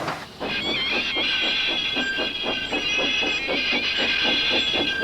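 A steam engine puffs in a steady rhythmic chuff, close and loud, with a hissing whistle-like tone over the beats.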